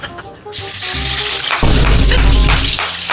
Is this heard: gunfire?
no